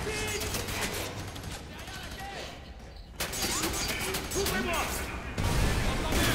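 Rapid gunfire bursts and shots from the video game F.3.A.R. crackle continuously and loudly, mixed with game effects and someone talking over the action.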